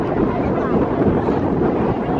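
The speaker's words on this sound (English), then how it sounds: "Wow, it's so windy." Strong wind on snowy Mount Hermon buffets the microphone in a continuous loud roar with no breaks.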